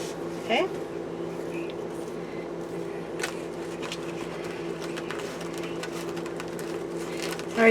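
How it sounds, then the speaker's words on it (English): A household air conditioner drones steadily in the background, a low, even hum with a faint tonal whine, joined by a few small clicks and knocks nearby. "you can hear my air conditioner going in the background"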